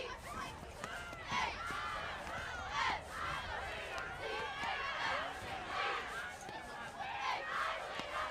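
Traveling Pratt fans in the stands at a night football game against Clearwater in Kansas, a faint distant crowd murmuring and shouting with scattered bursts of cheering.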